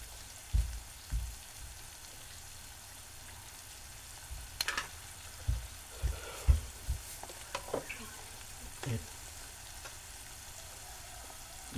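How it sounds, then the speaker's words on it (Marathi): Onion cooking in a pan for a Marathi breakfast ukad dish, a soft steady sizzle under scattered light taps and stirring clicks, fairly quiet throughout. "कांदा आणि आपलं जरा शिजू दे."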